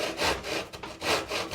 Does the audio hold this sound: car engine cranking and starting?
no